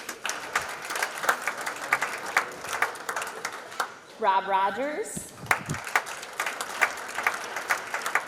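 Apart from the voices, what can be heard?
audience applause for Hall of Fame inductees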